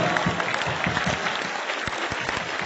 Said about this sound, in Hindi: ये तालियां संतन के लाने